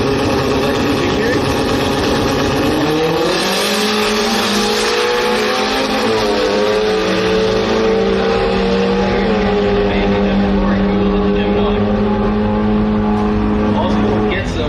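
Drag racing cars at the Brisbane drag strip, engines droning loud and continuous throughout, with rising revs as they accelerate down the track and a commentator talking over the roar.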